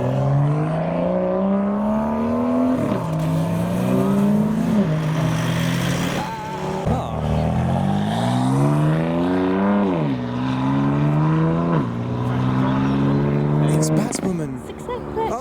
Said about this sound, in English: We've got another black BMW M2 leaving the show with a Series 2 Lotus Elise behind him.